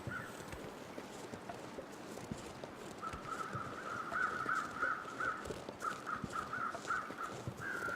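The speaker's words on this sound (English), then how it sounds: "You can hear those crows." Crows caw repeatedly at a distance in a snowy wilderness in The Long Dark, a string of short calls over soft footsteps and a low wind-like background.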